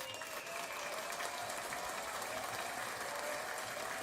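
Steady applause from a crowd runs throughout, a dense continuous patter of many hands at even loudness with no talk over it.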